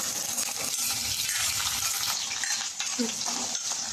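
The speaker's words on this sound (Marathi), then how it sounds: "आता आपण सगळ्या भाज्या हाय फ्लेमवर फ्राय करून घेणार आहोत" Mixed vegetables, including cauliflower, fry in oil over a high flame with a dense, steady sizzle and stirring scrapes, close and continuous, with faint speech in the background.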